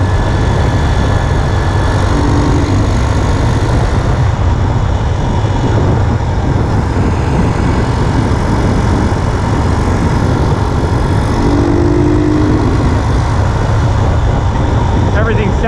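A 141cc big bore motorcycle engine fitted with an oil cooler runs through its break-in with a loud, close, steady drone that holds unbroken throughout.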